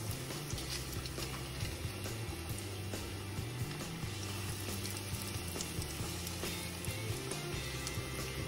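Chicken pieces for General Tso's chicken fry in hot oil, giving a steady, even sizzle and bubbling hiss that runs unbroken throughout at moderate level, with no talk.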